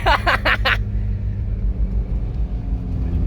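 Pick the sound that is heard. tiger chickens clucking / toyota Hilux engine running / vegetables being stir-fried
toyota Hilux engine running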